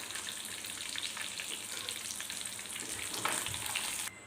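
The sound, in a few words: fish frying in hot oil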